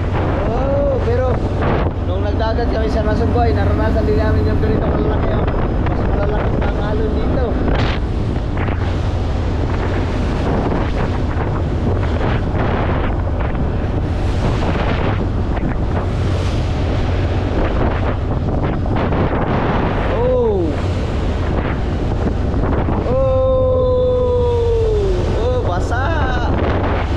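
Big waves and strong wind surround a boat at sea, a constant roar of wind buffeting the microphone with surging water rising and falling, while voices exclaim loudly at intervals.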